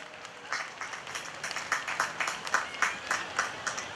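An audience claps and applauds at an evening youth conference to welcome a priest, a steady crowd patter that swells slightly, with no speech over it.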